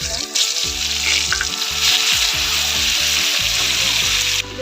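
Whole spices and whole garlic cloves fry in mustard oil for a tangy chalta pickle, giving a loud, continuous sizzle and crackle that runs unbroken from start to finish with no voices.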